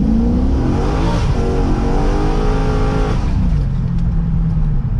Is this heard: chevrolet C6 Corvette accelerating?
yes